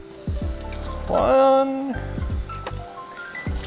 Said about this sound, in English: the next part of the process is to add 3 deciliter of water